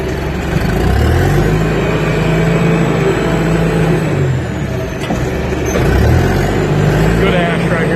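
A vehicle engine on a logging job revs up after being put in gear, rising and falling low growls with two distinct revs, heard close and loud beneath someone talking.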